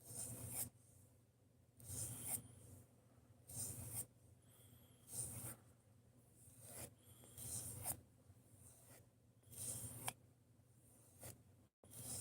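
A knife is stropped on a strop loaded with diamond emulsion, giving soft, rhythmic rasping strokes about once a second, close and quiet, with brief pauses between passes.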